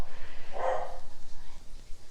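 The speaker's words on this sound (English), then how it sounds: "She's barking at the horse across the street" A single muffled bark from a dog at a horse across the street, brief and mid-distance, set against a pulsing low background rumble.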